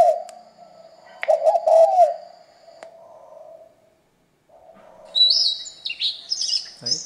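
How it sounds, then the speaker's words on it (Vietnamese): Oriental magpie-robin song played from a small bird-call speaker: clear, whistled mid-pitched phrases, then a pause, then a burst of high, bright chirps and trills, loud and close with no talking. "Đấy, tiếng chích chòe nha các bác nhé."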